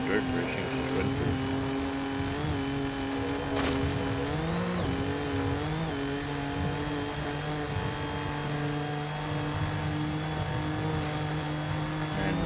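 A rally-tuned car on dirt racing suspension and rally tires roars at top speed in Forza Horizon 5, a steady high-pitched engine drone with shifting harmonics, loud and continuous, with a voice talking over it.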